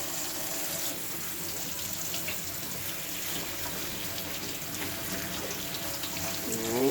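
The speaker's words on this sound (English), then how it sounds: "we're just going to run some water over it" Tap water runs steadily over rubber eggs in a sink, a continuous close splashing hiss that holds even throughout and swells slightly at the end.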